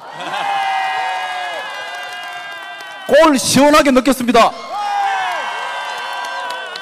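A crowd at a Democratic Party political concert in Gwangju bursts into applause and cheering for about a second and a half, loud and dense, between stretches of someone speaking over a microphone.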